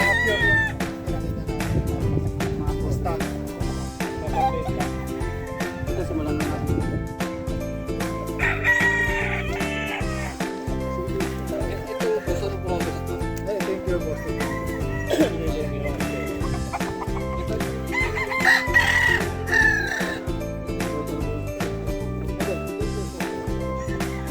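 Boston Roundhead gamecock roosters crow again and again at a game farm, several loud calls overlapping above a dense background of clucking fowl and an occasional distant dog.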